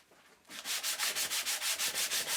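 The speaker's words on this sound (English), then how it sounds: "I take this opportunity to do a bit of sanding" Sanding a wooden hinge for a small hinged box: after a quiet start, about a dozen even back-and-forth rasping strokes rub along steadily and close.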